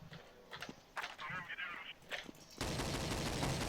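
Gunfire rattles in the game Counter-Strike 1.5 on the PoolDay map, bursts of shots and impacts trading back and forth before a loud dense burst of noise at the end, with a player talking over it.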